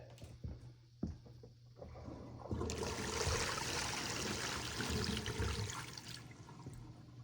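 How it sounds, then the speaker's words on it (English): Water rushing and trickling through a leaking toilet flush pipe after a few knocks, a loud steady gush that continues to the end. "there's a little problem with the toilet flushing pipe here. I think it's leaking."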